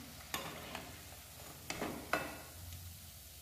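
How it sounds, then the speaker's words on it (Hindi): Freshly fried, crispy sabudana vada are handled after draining, giving a few sharp, crackly taps and rustles spaced apart over a faint background, close and fairly quiet. "ये देखिए गाइस बड़े हमारे कितने क्रिस्पी बने हैं, आपको मैं आवाज भी सुनाती हूँ"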